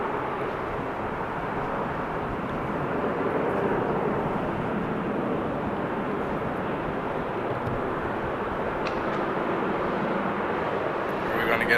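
A jet airliner roars on takeoff at Amsterdam Schiphol Airport, a sustained broad engine rumble heard from a distance, swelling slightly midway, with wind noise and talk over it.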